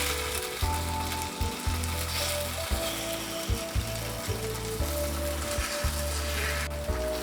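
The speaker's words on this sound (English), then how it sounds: "Once the batter hardens a bit, start turning the takoyaki around." Takoyaki batter sizzles steadily on a hot griddle with a soft continuous frying hiss, broken by small irregular clicks and scrapes close by.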